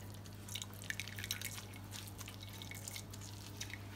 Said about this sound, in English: so I'll pour this gravy in the same pot again